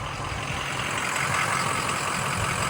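A 2005 Ford Excursion Limited diesel 4x4 with airlift rear suspension runs steadily nearby, its low engine rumble constant and loud throughout with no talk.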